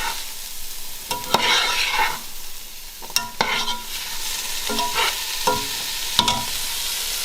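Salt, sugar and spices are stirred into a Carolina Reaper curry in a pan, loud scraping strokes and clacks of a utensil recurring irregularly over a continuous close sizzle.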